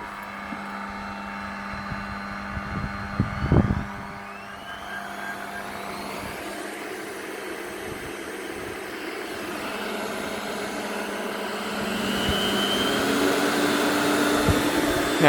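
A Vax 121 vacuum cleaner motor hums after a few clunks of handling, then runs on high as a steady whining drone that grows slightly louder toward the end, with no talk.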